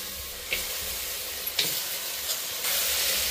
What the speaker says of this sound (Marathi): छान पद्धतीमध्ये हलवून घ्यायचं मित्रांनो।